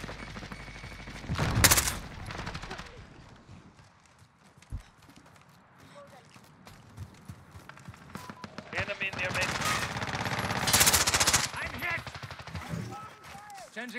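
AS Val gunfire in Call of Duty Modern Warfare, two loud bursts of rapid suppressed shots several seconds apart, set against softer game sounds and brief thuds, with a voice talking in between.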